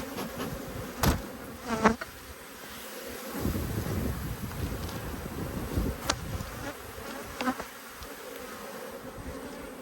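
Honey bees swarm and buzz steadily around an open beehive during an inspection of the brood chamber, with a dense continuous hum, a few louder close passes by individual bees and light wind noise.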